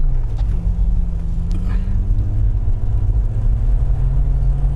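The engine of a BMW 318ti Compact drones loudly from inside the car while driving, its low hum rising gradually in pitch as it pulls.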